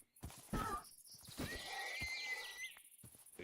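A horse in World of Warcraft: The Burning Crusade neighs, a drawn-out whinny of moderate loudness set among short thuds and clip-clop-like game sounds, with no talk over it.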